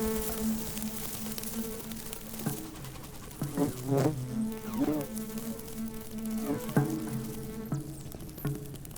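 A bumblebee buzzes steadily over low background music, its drone rising in brief louder swells before fading back, fairly close and moderately loud with no talking.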